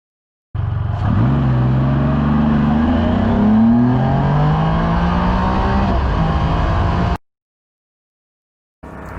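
Can-Am Spyder F3 three-wheeled motorcycle accelerates hard, its engine note climbing through several rising gear pulls, loud and close for about six seconds before cutting off abruptly.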